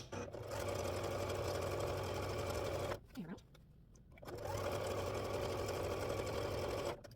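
A sewing machine stitches flying geese quilt blocks at a 2.4 stitch length, whirring in a fast steady run for about three seconds, pausing briefly, then running again at the same even pace.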